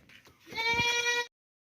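Healthy young pregnant goat giving one loud, close, sustained bleat lasting under a second, preceded by faint rustling and followed by silence.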